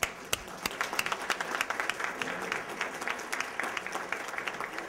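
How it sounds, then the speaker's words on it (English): An audience at a chamber of commerce candidates forum applauds the candidates, a steady moderate clapping with a few sharper individual claps standing out near the start. "I think we should give them a round of applause"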